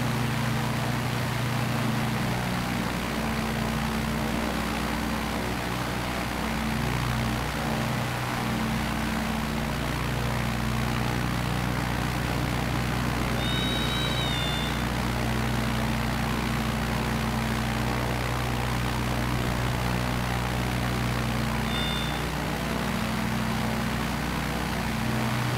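An aircraft engine drones steadily during a takeoff run in Microsoft Flight Simulator 2020 from within Arizona's Meteor Crater, a constant loud propeller hum with a couple of brief high warning tones over it, no talking.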